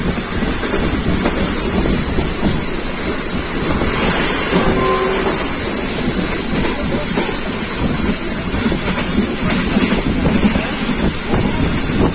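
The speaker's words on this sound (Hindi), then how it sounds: "अब ट्रेन गुजरेगी दरिया चनाब के ऊपर से अलेक्जेंड्रा ब्रिज के जरिए।" A Pakistan Railways rail car travels between Rawalpindi and Gujranwala, giving a steady loud rumble of wheels and rolling stock with wind noise throughout.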